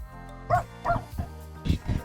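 A dog that wandered over to a person filming along a gravel road in Riverside County gives a few short, close barks and yips in separate bursts, with a voice speaking nearby.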